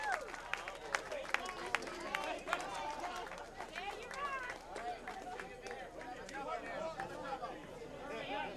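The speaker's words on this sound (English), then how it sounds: "You might be able to hear his cheering section with the "You can put it on the board, yes."" A crowd at a candlepin bowling match chatters and cheers, with a cheering section chanting amid busy indoor babble, sharp clatters and scattered claps throughout.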